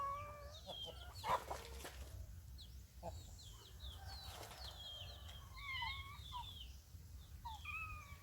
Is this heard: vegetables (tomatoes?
no